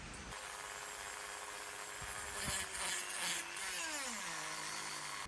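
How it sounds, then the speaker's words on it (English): A Dremel rotary tool fitted with a small angle-grinder cutting disc runs in a shed workshop on the Isle of Skye: a steady, close, high motor whine with gritty cutting noise, then the pitch sinks as it spins down. "now I'm going to use a Dremel. Decided to up my game a bit, put one of these little mini angle grinder discs on"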